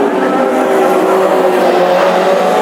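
Classic hot rod race cars at the Irish Grand Prix final in Tipperary, their engines roaring loud and continuous as they pass close on the track.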